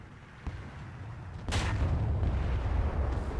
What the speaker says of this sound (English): Oh, somebody just shot him.